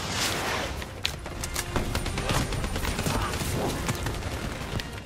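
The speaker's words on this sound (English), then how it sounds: "Why are you shooting me? Don't shoot me." Gunfire in Black Ops 3, a steady scatter of shots and sharp cracks, moderately loud and continuous over several seconds against a dense battle background.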